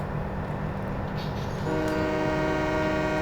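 A train rumbles close by with a steady, heavy roar and partway through sounds a sustained horn blast that holds loud to the end, with no voices.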